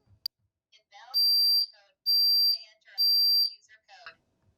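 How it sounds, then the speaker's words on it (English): A 5808W3 smoke alarm sensor triggers a Qolsys IQ Panel 2 Plus, blaring in three loud, shrill bursts about a second long each, with a voice speaking between them. "As you can see, I'm getting the alarm."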